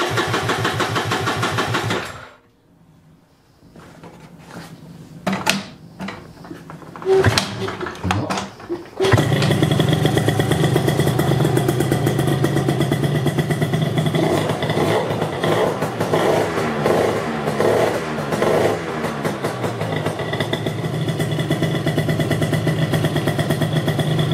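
An Italjet Dragster scooter engine cranks with a few sputtering attempts, then catches and settles into a loud, steady, close-up idle with a buzzy exhaust note that runs to the end.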